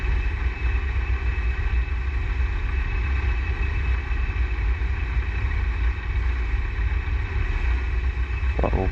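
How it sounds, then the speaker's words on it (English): Auster light aircraft engine throttled back to idle, a steady low droning hum that runs unchanged throughout at close range, with a brief clatter near the end. "Throttle all the way back to idle."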